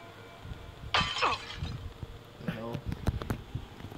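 Glass shatters suddenly in the horror game Silent Hill, a bright crash followed by scattered tinkling shards falling over the next few seconds, with faint background voices.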